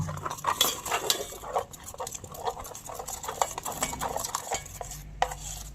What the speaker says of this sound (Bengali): দিয়ে বেসনটাকে একটু ঘন করে মেখে নেব